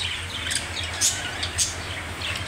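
Pet birds in a home aviary chirping, a busy mix of short high tweets and calls from several birds at close range over a low steady background hum.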